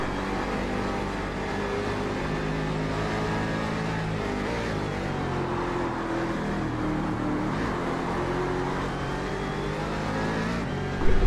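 Race cars roar around a track in a racing video game, Cadillacs among them, a dense, steady engine drone with layered revving tones that holds loud throughout and swells briefly at the end.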